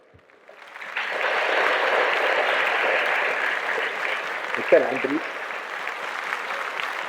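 An audience at a talk on women's challenges breaks into steady applause that rises quickly and keeps going, with a voice briefly speaking over the clapping partway through.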